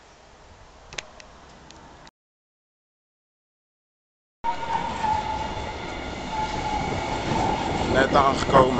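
A train rumbles at a station on the way to Rotterdam, a steady loud rolling roar with squealing and clatter, following a short quieter stretch and a gap of silence.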